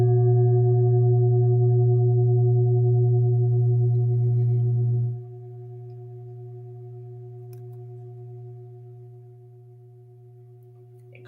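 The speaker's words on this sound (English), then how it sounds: "my Himalayan bowl that I just got. This is in the G frequency. So I'll play it for you guys." A Himalayan singing bowl tuned to G rings with a steady, pure sustained tone and overtones, loud at first, then dropping to a softer, long-lingering hum that continues to the end with no talking.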